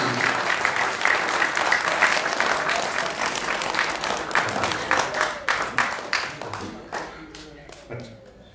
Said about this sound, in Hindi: बजाओ माँ की भक्ति में तबीयत से ताली